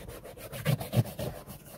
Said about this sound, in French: on va venir agiter à l'aide de notre brosse en nylon